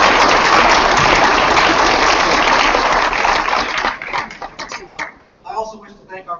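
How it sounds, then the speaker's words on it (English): A forum audience gives a round of applause, thick sustained clapping that fills the room for several seconds, then thins to scattered claps and fades as a voice begins speaking. "A round of applause for Jeff Goldberg for an outstanding job."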